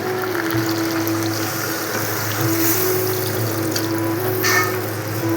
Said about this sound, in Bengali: এখন আমি নারকেলের দুধটা দিয়ে দেবো